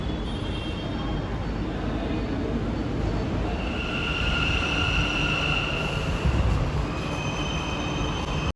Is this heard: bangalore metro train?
yes